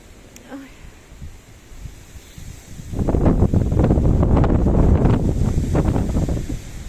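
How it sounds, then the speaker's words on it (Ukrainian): Cold wind gusts buffet the microphone, roaring loudly across the second half after a quieter, breezy start. "Вітер холодний"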